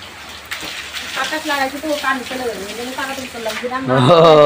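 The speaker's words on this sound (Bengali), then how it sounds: "যেহেতু এই যে বৃষ্টি হচ্ছে" Rain falls steadily around a cattle farm as a broad, continuous wash of patter, with people talking over it throughout.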